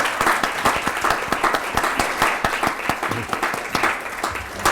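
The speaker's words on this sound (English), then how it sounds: "I really want to give a round of applause to these wonderful," An audience at a literature panel discussion breaks into sustained applause for a panel of writers, a dense, even patter of many clapping hands filling the room without a break.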